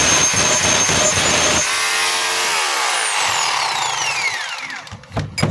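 A DeWalt D25033 rotary hammer set to hammer without rotation runs loud and close, rattling rapidly, then the motor winds down with a falling whine and stops near the end, with no talking.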